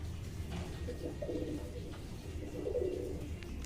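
Pet pigeons for sale, a pair of male and female birds, coo softly and continuously at mid distance over a steady background hum, with a few brief louder warbles.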